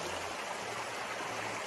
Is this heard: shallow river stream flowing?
yes